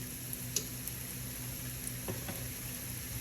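Shallot sizzling in olive oil in a pan, a steady close crackling fry with small pops and light stirring, with no talk.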